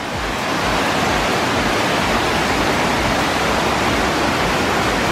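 Water pours down a rock face on the Puy de Sancy mountain as a dense, steady rushing roar, close and loud and unbroken, with no voices over it.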